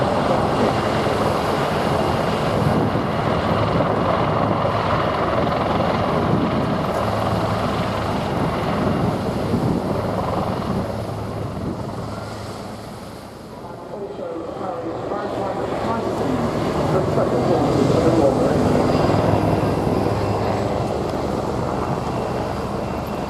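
Loud, steady roar of aircraft engines at an air show, flying close over a helicopter, dipping briefly midway before swelling again, with wind buffeting the microphone.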